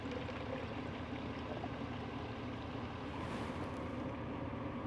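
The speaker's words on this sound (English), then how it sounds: "I found this spring. It comes right outside of the mountain." Water from a mountain spring, Fletcher's Spout, flows straight out of the mountainside as a steady, full rushing wash with no voices.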